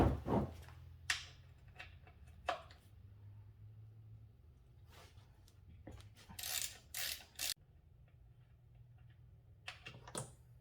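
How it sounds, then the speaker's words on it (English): Oil drain plug being unscrewed beneath a 2012 VW Passat CC 2.0 Turbo TSI R-Line, with close, quiet metallic clicks and ratcheting bursts scattered among short pauses, with a low hum underneath. "Let me unscrew that and drain out all of the oil."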